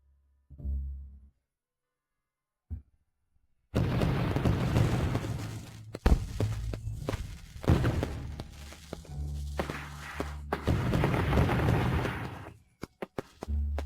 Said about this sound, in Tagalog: Sindihan ang paputok.